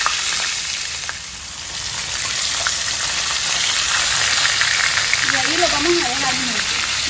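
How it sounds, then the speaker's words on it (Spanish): Flour-dusted fish pieces frying in hot oil, a steady broadband sizzle running through the whole stretch at close range, with a faint voice briefly audible near the end. "Y los llevamos a freír."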